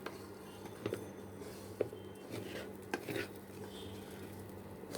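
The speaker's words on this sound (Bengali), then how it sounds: "চালটা আমরা ভেজে নিচ্ছি, একটু ভালো করে ভেজে নিতে হবে।" Broken rice fries in a pan under a quiet, low sizzle, with a spoon scraping and clinking against the metal every second or so, faint and close with no talk.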